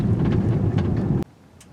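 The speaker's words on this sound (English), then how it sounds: "it's starting to rain heavily" Heavy rain pours down out in the desert beside a 2022 Acura MDX A-Spec, a dense roaring wash that cuts off abruptly after a second, leaving only faint patter.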